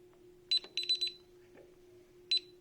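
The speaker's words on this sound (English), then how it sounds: "That beeping is, as the screen says, it's an exit delay." Sharp electronic beeps from a building alarm panel's exit delay after arming come in short bursts, a single chirp followed by a quick cluster, then another lone beep, over a steady low electrical hum.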